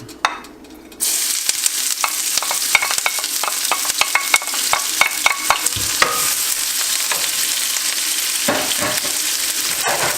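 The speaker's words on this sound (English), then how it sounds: "So here we're gonna fry up some of the scallions." Scallions hit a pan of hot oil for the base of a Vietnamese caramelized clay pot fish sauce, bursting into a loud, continuous sizzle with many crackling pops and scraping stirs, close up and without talk.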